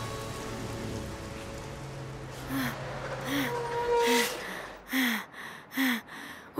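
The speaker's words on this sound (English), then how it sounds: "Thankfully, the rain was starting to let up." Steady rain falls in a Tayo children's cartoon, a constant soft patter filling the background while short gasp-like vocal sounds rise over it toward the end.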